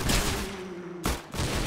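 Rapid gunfire from Roblox Arsenal, a fast-paced shooter game: dense bursts of loud shots in close succession, a sustained tone under the first second, then a short gap before more shooting resumes.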